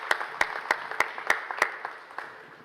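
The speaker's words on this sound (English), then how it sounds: "But let us give Gentry a big round of applause and thanks for what he does each and every day" An audience at an Urban League event gives a round of applause, with sharp, evenly spaced loud claps standing out over softer scattered clapping that fades near the end.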